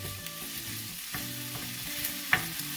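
Ground beef, onions and mushrooms fry in a skillet with a steady sizzle, broken by the scrape and tap of a spoon stirring, with one sharper clink near the end; no one speaks.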